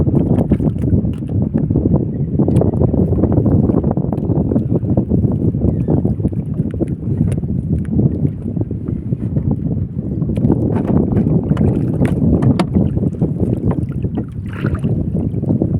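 Strong wind buffets the microphone in a constant, loud roar, with low rumbling gusts and the faint slap of water against a small boat.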